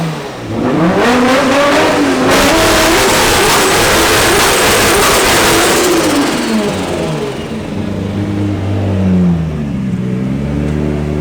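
A Nissan S15 drift car at a DMEC round engine roars loudly and continuously, its revs climbing, wavering and dropping in long sweeps as it slides, with a dense, harsh tone throughout and no talking.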